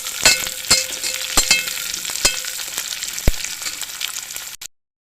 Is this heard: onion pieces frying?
yes